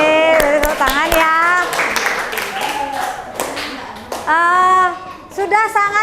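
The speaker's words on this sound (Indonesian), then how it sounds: "Oke, beri tepuk tangan ya." A class claps after a student group presentation, with brisk scattered hand claps mixed with children's voices talking and singing out over them, fairly close and lively.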